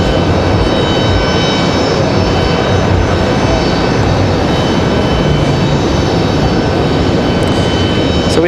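Breeze Airways jet departing Raleigh-Durham International, flight Moxie 209 bound for Columbus, Ohio: a loud, unbroken engine roar that stays constant and close throughout, with no talk over it.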